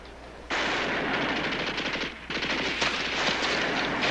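Sustained machine gun fire in a 1960s war TV drama, loud rapid bursts rattling continuously, with a brief break midway before the firing resumes.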